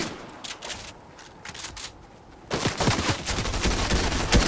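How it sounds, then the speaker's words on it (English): Gunfire in Fortnite, scattered shots at first, then a rapid burst of repeated shots that grows louder and denser toward the end. "Someone's shooting at me."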